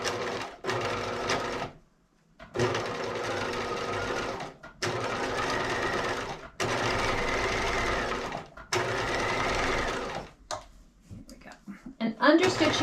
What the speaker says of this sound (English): Okay, so I'm going to start stitching.